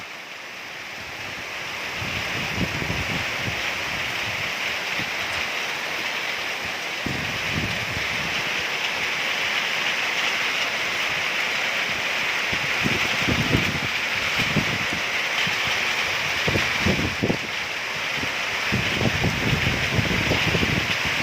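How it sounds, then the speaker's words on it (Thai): Steady, dense rain hiss fills the scene without pause, with gusts of wind swelling now and then and scattered thumps from drops on a nearby surface. "ฝนตกแรงพอสมควร"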